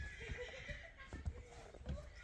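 A horse, a well-built young colt, whinnies faintly in the distance while hoof thuds and low rumbles sound underneath and quiet talk is heard.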